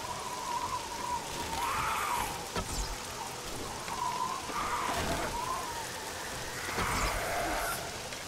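Steady rain falls in the survival game 7 Days to Die, a continuous hissing wash that swells and eases over a few seconds, with faint tonal game sounds drifting through.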